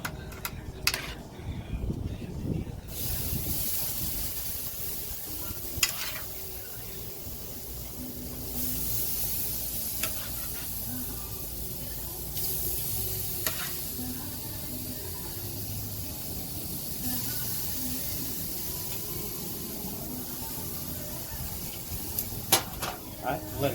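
Carne asada sizzles steadily on a grill, a broad continuous hiss with occasional pops and clicks, heard close and fairly loud with some background noise throughout.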